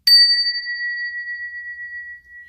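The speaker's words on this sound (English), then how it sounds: "I'm also hearing a little bell to clear the air" A small bell struck once, ringing out with a clear, pure tone that sustains and slowly fades over a couple of seconds, alone and close.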